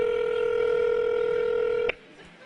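A phone ringing over speakerphone, one long steady electronic ring tone that cuts off sharply near the end, leaving quiet room sound.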